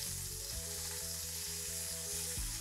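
Scallops searing in a hot pan, heard as a steady, fairly soft sizzle with a faint hum running beneath it and a brief stir or shift near the end, with no voices.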